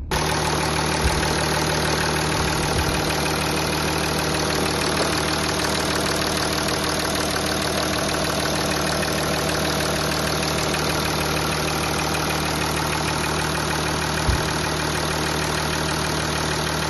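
A 2015 Audi A8 D4 engine idles loudly and evenly up close, a steady rattling drone with a couple of brief low thumps and no talking.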